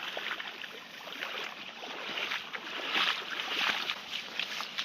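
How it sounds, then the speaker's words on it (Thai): Steady broadband rush of floodwater pouring through a creek channel during continuous rain, loud and continuous, swelling slightly toward the middle with no voices. "ได้ยินเสียงน้ำไหมครับเนี่ย เสียงน้ำแรงมากครับ"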